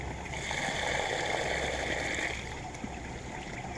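Water pouring steadily from a pipe at the back of a garden filter, a continuous near splashing and trickling flow that eases off slightly toward the end.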